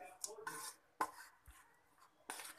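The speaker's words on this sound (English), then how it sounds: "Now I am adding the prepared garlic rice masala. Now I will mix this." Spoon or spatula stirring garlic rice masala into cooked rice in a pan for garlic chitranna, quiet scraping and tapping strokes in short separate bursts, with a few sharper knocks against the pan, close and alone.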